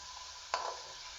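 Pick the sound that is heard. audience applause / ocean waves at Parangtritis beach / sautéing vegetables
sautéing vegetables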